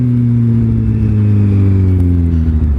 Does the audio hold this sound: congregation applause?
no